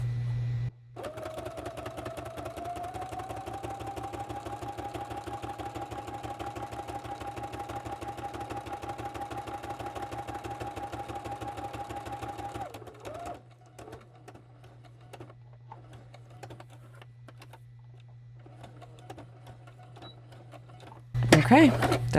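A sewing machine stitches fabric in a steady, continuous mechanical drone for about twelve seconds, then drops to a quieter idle before a brief louder burst at the end.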